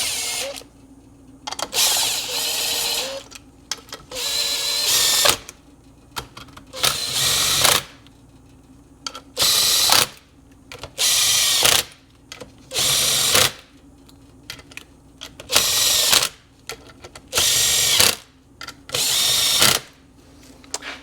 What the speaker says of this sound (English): So we'll run these 11 mil socket bolts in first.